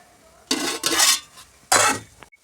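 A spoon stirring cooked rice with soya chunks in a metal pot, two distinct bursts of scraping and clattering against the pot separated by a short pause, close and fairly loud.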